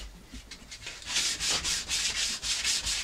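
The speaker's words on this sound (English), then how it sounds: "I'm going to try sanding along the edges here, see if I can smooth this out a little bit." Rhythmic scraping of a sanding block rubbed back and forth along a wooden table edge, a steady series of gritty strokes growing louder after a quieter start.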